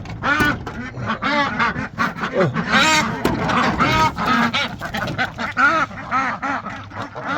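A flock of farm ducks quacks busily while being let out of a barn, a close overlapping chorus of nasal calls with a few honk-like notes, steady and lively throughout.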